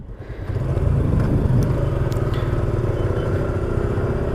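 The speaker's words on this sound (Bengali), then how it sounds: "আর এটা হলো আমার বাইক, ওনারও জিক্সার" Two Suzuki Gixxer motorcycles, a 2022 and a 2020 model, set off together in Dhaka. Their engines give a steady, loud rumble that swells after a brief idle and then holds as the bikes ride on, with no talking.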